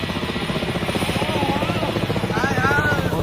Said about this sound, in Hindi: पवन भैया का हेलीकॉप्टर वो रहा सामने से आता हुआ